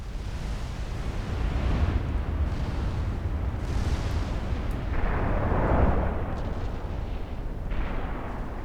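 Battleship naval gunfire in Ultimate Admiral: Dreadnoughts, heavy rumbling artillery booms rolling over a constant low roar of sea and battle ambience, with a stronger blast swelling midway.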